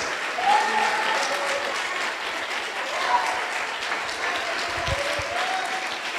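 Steady applause from a congregation at a Sunday church meeting fills the clip, continuous and fairly loud, with a voice speaking over it at times.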